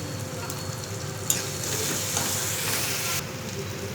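Mint leaves fry in hot oil in a pan while batani chaat is prepared, giving a steady close sizzle with a soft crackle and a brief sharp tap near the start, no voices.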